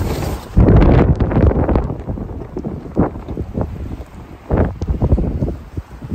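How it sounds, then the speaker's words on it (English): Strong wind buffeting the microphone in heavy low gusts over a snowy farm, rising and falling in bursts with rustling underneath. "Been a super windy day today."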